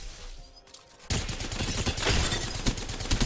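Rapid gunfire bursts out abruptly after a quiet second in Apex Legends Season 25, a dense fusillade of close, loud shots continuing to the end.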